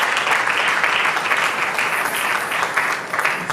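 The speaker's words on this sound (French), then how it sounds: "Nous allons acclamer le Seigneur pour sa présence." A church congregation applauds at a conference, with dense, loud, continuous clapping from a crowd over several seconds.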